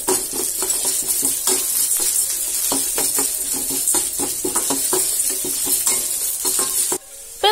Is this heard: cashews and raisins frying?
yes